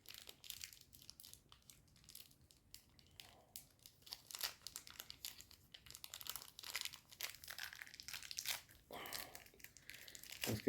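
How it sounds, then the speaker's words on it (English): An Evil Lyn action figure being pulled from its plastic packaging: a long run of close crinkling, crackling and tearing plastic with rustling handling, no voices. "we shall dig this out of the packaging"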